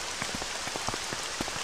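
Steady rain patters on a surface, a dense hiss with scattered individual drops ticking through it, continuous and unbroken.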